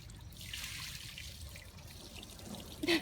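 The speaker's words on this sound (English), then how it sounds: "Where's the fountain? Where's my waterfall?" Water trickling from a garden fountain, a soft steady splashing flow, fairly quiet with a brief louder splash at the end.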